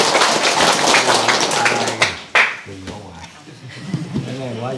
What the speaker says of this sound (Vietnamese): kính mời quý vị cho một tràng vỗ tay nữa